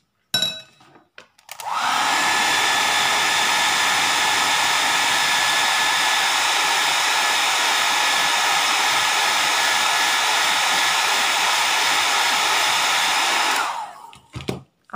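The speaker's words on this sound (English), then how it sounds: "we have to blow dry" A hair dryer blows steadily to dry decoupage glue on a rice paper decoupage tiffin carrier, a loud continuous whirring roar running about twelve seconds alone before switching off.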